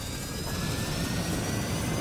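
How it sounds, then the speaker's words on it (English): Plane engines in the Homebrew Vehicle Sandbox game drone as a loud, steady roar with a broad whine, continuous and unchanging throughout. "I love the sound of those engines"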